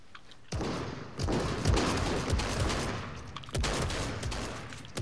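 Rapid bursts of Fortnite gunfire crack loud and close, with overlapping shots and sharp transients across the whole stretch and no one talking over them.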